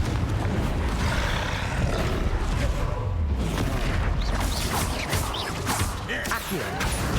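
Blasting-spell explosions in the Hogwarts Legacy video game boom over heavy rumbling and crackling combat noise, dense and loud throughout with repeated sharp bursts.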